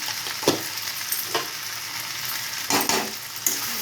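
Pasta stirred with salt and turmeric in a frying pan: a soft continuous sizzle with occasional clicks and scrapes of the spoon against the pan.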